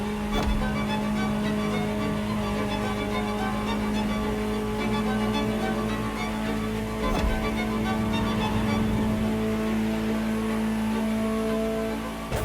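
A loud Ferrari supercar engine in the video game The Crew Motorfest drones steadily at high revs, a dense, constant roar with only slight shifts in pitch.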